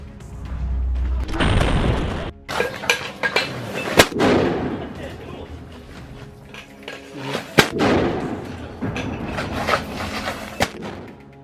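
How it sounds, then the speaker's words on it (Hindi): A series of sharp, loud blasts and booms from a tank being blown up in the Israel–Hamas war in Gaza, several heavy detonations spread out over the stretch with rumbling in between. "वो इस डिवाइस को उड़ा देता है, जिसमें जोरदार धमाके की आवाज आती है।"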